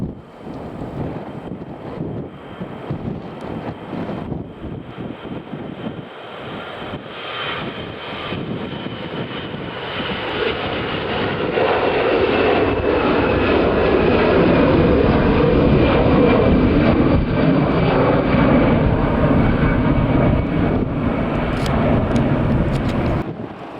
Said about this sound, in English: next up then we've got a EasyJet Airbus A320-200 going to